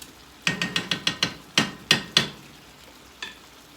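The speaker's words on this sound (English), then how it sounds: "So this toasting process should only take 2 to 3 minutes." Rice toasting in butter in a pan for risotto: a run of sharp, close stirring clicks and scrapes in quick succession over a faint sizzle, then a few sparser taps.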